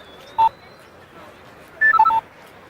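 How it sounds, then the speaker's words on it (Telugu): Telephone dialing tones from a film scene: one DTMF keypad beep, a pause, then a quick run of four or five beeps as a number is entered, clear and close over a quiet background. "ఇప్పుడు చేయి, వాడు ఎత్తుతాడు."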